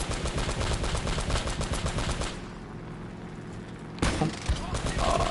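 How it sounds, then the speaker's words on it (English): Gatling gun fire in the video game Uncharted: Drake's Fortune, a rapid, loud mechanical rattle of shots that stops abruptly, leaves a short lull, then bursts back in with another spray of fire. "I get to have a Gatling gun"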